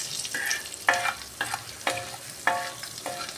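Paneer fries in a pan for paneer sukka, with a soft sizzle under repeated sharp scraping strokes of a spatula, coming in a loose rhythm about every half second.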